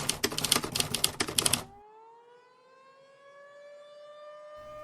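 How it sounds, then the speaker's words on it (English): A civil defense siren wails during an invasion, rising steadily and holding, heard after a burst of rapid typewriter clacking. "Sirens blares, civilians fleeing for their lives"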